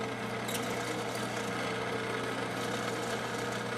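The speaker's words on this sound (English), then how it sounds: "This is a metal cutting bandsaw that cuts about 100 feet a minute, and I'm using a bimetal blade" Metal-cutting bandsaw running a bimetal blade through steel bar, a steady dense whirring drone with a brief brighter scrape near the start, continuous and fairly close, with no voices.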